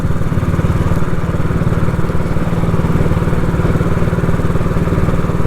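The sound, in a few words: old Royal Enfield motorcycle engine while riding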